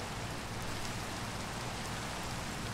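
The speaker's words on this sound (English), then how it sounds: "He's getting really wet from the rain." Steady rain falls in a Minecraft world, a dense, even hiss of raindrops that holds constant throughout, moderately quiet and with no voices over it.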